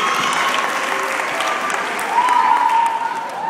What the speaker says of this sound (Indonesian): Tepuk tangan buat Lovandri.